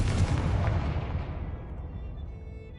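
A Confringo blasting spell explodes in the video game Hogwarts Legacy: one loud, broad booming blast that rolls and fades slowly over a few seconds, with no voices.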